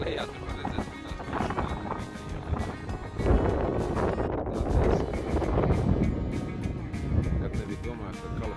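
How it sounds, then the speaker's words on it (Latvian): Strong wind gusts buffet a car climbing a mountain road in California, a continuous loud rushing roar that swells and thickens partway through, with talk over it. "Vējš pūš aizvien stiprāk."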